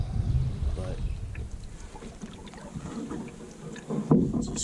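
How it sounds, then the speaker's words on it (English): Water splashing and sloshing as someone paddles a Northstar Trillium solo canoe from a kneeling position, with a steady, close churning that swells at the start and again near the end. "so I've been paddling around on my knees"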